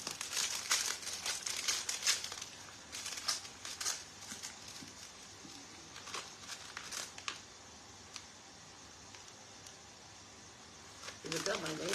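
Paper mail is torn and crumpled up by hand, with bursts of crinkling and ripping nearby that are busier at the start and again near the end. Quiet pauses fall between the bursts, and people talk at times.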